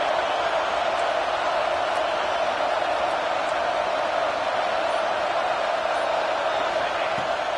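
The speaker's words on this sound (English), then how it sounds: "4th down, and this crowd trying to help this defense rise to the occasion." A football stadium crowd at a USC game roars on fourth down in a steady, dense wash of noise that holds at an even, loud level without a break.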